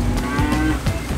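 Cows mooing along a muddy road on a Hawaii ranch, two or three close, loud lowing calls in quick succession with no talk over them.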